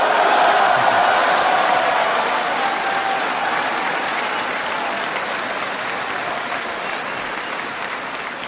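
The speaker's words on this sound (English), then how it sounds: "I figured that'd be an applause line" Large crowd applauding at a military base address at Camp Lejeune, dense, continuous clapping with scattered cheers that holds loud and slowly tapers over several seconds.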